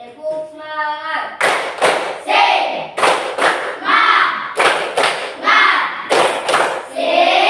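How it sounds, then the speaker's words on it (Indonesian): A classroom of students does a rhythmic spirit clap in repeated bursts of loud, sharp claps with shouted chanting between them, led by a teacher. "Tepuk semangat ya, tepuk semangat."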